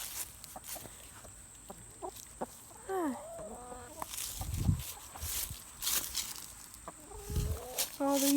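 Small backyard chickens cluck and chirp in short rising calls, mixed with footsteps and rustling nearby, while a person briefly greets them.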